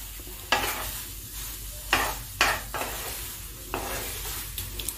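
Thor (banana stem) paste fries in a pan with a soft continuous sizzle, broken by several sharp scraping strokes of a spatula stirring it against the pan.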